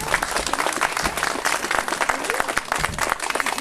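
An audience at a ceremony applauds Hortense, dense continuous clapping from many hands filling the room, fairly close and even throughout.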